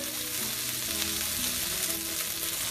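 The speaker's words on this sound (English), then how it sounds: "you don't want to burn the garlic, so that's why I'm keep on moving it around" Garlic fries in hot oil in a pan, kept moving so it won't burn, a loud continuous sizzle with faint stirring scrapes running throughout and no talking.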